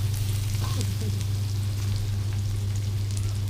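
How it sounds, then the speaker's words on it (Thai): Eggs fry in a pan, giving a continuous loud sizzle with a low steady hum underneath and no clear talk. "ทอดไข่อยู่นี่"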